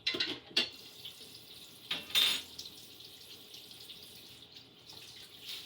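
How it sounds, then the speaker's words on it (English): Tap water splashing into a pan being rinsed at a sink, in short bursts of hissing spray with quieter trickling and clatter between. "I'm gonna rinse this pan out."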